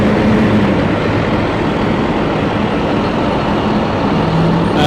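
Two fire department trucks at a rural fire scene rumble loudly nearby as they pull away, a heavy, continuous engine roar that stays steady for several seconds, with a brief higher hiss at the very end.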